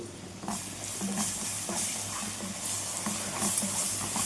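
Fried onions and chilli paste being stirred in a pan for fish curry, a continuous close hiss and sizzle with soft scraping stir strokes throughout, moderately loud and without speech.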